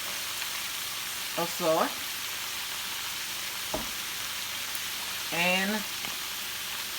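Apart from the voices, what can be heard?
cabbage frying with bacon in a pan, from a video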